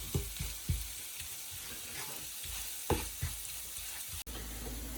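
Paneer stir-fry masala with Kashmiri chilli and ginger is mixed and fried in a pan, making a soft, continuous sizzle broken by occasional scraping stirs, fairly quiet throughout.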